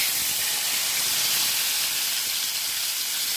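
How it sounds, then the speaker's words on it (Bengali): A fish head fries in hot oil for a spinach curry, producing a loud, continuous, even hiss that stays close throughout with no talking. "মাছের মাথাটা ভেজে নেব।"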